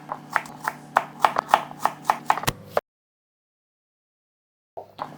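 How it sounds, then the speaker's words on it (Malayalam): Knife chopping cucumber into small cubes on a board for a cucumber mint lemon juice, a quick run of about a dozen close, crisp cuts, then silence and one more faint cut at the end. "അത് നമുക്ക് കട്ട് ചെയ്ത് മിക്സിയിലേക്ക് മാറ്റാം."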